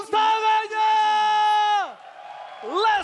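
An esports arena crowd at an MPL Mobile Legends match between EVOS and AE lets out a loud, sustained roaring shout that rises, holds for over a second, then sweeps downward, followed by a shorter swelling whoop.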